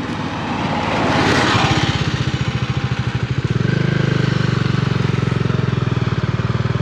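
Bajaj Dominar 400 motorcycle on a test ride, its engine pulsing steadily and loud up close, with a rising rev and shift partway through and wind rush over the top.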